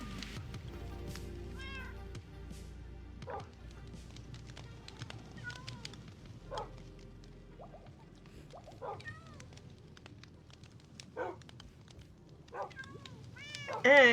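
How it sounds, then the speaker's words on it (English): A pet cat meows repeatedly in the background of a home streaming setup, short rising cries scattered over about fourteen seconds beneath steady room noise, with a louder cluster near the end. "She's meowing up a storm over there."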